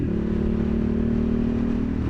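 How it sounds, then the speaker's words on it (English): A Honda CB750 Hornet motorcycle's exhaust drones steadily with a strong, close engine tone as the bike accelerates along the A34 road near Oxford, without speech. "Oh, that exhaust."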